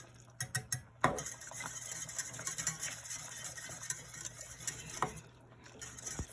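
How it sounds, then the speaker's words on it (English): Gravy of pan drippings and onions stirred quickly in a hot pan, a close run of scraping and clinking strokes with a sharp knock near the start and another near the end. "So when it goes, I'm going to quickly stir like this."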